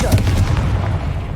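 The Confringo blasting spell from the video game Hogwarts Legacy lands as a heavy, rumbling explosion, a deep boom that fills the whole moment with low, rolling energy.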